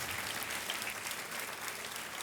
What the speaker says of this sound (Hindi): तालियां बजती रहें देवियों और सज्जनों